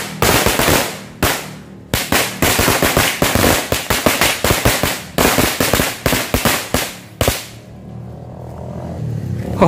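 Firecrackers set off during the Ramadan fasting month, including colourful ones, rip through a dense string of sharp, loud cracks in rapid uneven bursts, pausing briefly before a final scattered round, close by with no talking.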